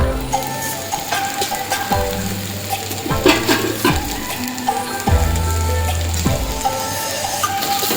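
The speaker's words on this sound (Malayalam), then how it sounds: "ഒന്ന് ഇളക്കി കൊടുത്ത് നല്ലോണം ഒന്ന് ഇളക്കി കൊടുക്കുക." Onions frying with salt in a pan, a loud continuous sizzle close by, broken by scraping and clattering as they are stirred every second or so.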